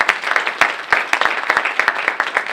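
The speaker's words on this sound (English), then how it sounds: "Let's give our candidates a big round of applause." A modest audience at a South Euclid candidate night claps for the candidates, with distinct, uneven handclaps from a fairly small group close by in a meeting room.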